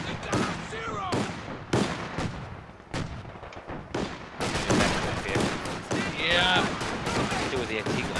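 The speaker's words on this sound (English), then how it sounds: "They built a fucking flat gun over here," Anti-aircraft flak gun firing in Company of Heroes 2, a barrage of sharp, loud booming shots in irregular bursts, with voices talking over the battle.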